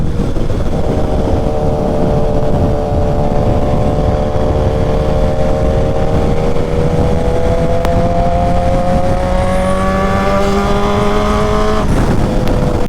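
A 2012 BMW S1000RR motorcycle engine revs loudly and close, holding a strong steady drone whose pitch climbs gradually, then drops off sharply near the end, with no voices.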